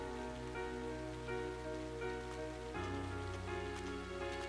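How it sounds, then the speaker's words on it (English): Steady rain falls in the Trails of Cold Steel game town of Trista during a June rainy spell, a continuous hiss under sustained musical tones, with no talk. "a rainy spell seemed to hang over Trista"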